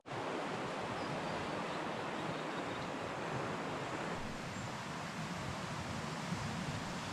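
A river flowing through a remote, icy New Zealand valley in winter, a steady broadband rush of water, close and continuous, with no voices.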